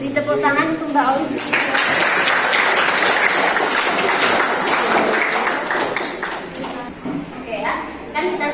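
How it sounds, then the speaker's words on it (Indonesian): A classroom of students claps for a classmate, a dense, loud burst of applause that builds after a brief spoken opening, sustains for several seconds and thins toward the end, with voices mixed in. "Beri tepuk tangan untuk Mbak Oli"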